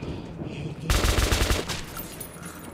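Rapid automatic gunfire from a weapon in Metro 2033 Redux, a dense burst of shots lasting about a second in the middle, loud and close over ongoing game ambience.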